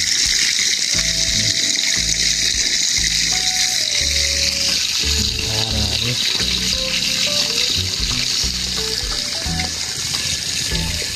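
Spring water welling up in the Bhulke wetland pond, heard as a constant loud gushing trickle of water, with a person speaking over it and a melodic tune playing in the background.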